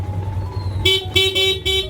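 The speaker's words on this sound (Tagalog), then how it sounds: "Parang bago lang yung busina, no?" Stock horn on a five-year-old Yamaha Sniper 150 motorcycle gives about four short, loud, close honks in a quick, uneven series, following a moment of quieter background noise.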